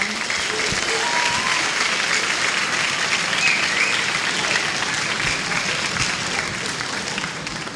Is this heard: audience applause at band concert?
yes